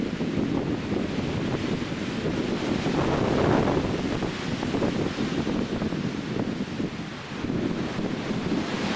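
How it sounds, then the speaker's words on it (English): A strong wind gust sweeps past a river in Ireland, whipping spume off the water; a loud, steady roaring rush buffets the microphone, peaking midway, with no talking. "Big gust comes by."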